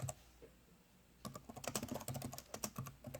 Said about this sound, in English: And if I type data here